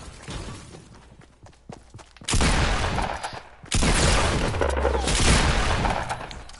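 Video game gunfire opens with scattered sharp shots, then two loud sustained bursts of rapid fire crash in close and dense, with little talk.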